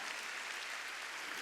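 Congregation clapping during a Sunday church worship service, a dense, even wash of many hands with no talk over it.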